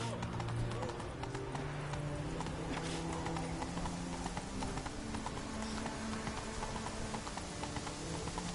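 Roach, Geralt's horse in The Witcher 3: Wild Hunt, runs with a steady, rapid clip-clop of hooves, close and continuous beneath a game music bed, with faint voices in the background.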